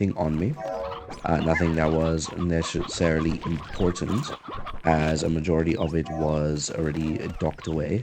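Hens and a rooster cluck in the Slime Rancher 2 video game, low in the mix beneath steady, nearly continuous talk.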